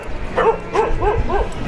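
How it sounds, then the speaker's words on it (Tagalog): Dogs let out four short, yelping barks in a steady rhythm, heard at moderate distance over a low outdoor background rumble. "yung mga aso buang na buang yan sa kanila magkahul"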